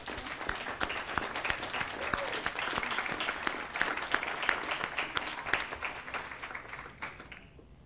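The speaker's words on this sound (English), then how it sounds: "you deserve a round of applause" An audience at a board meeting applauds with steady, dense clapping that holds for several seconds and then fades toward the end.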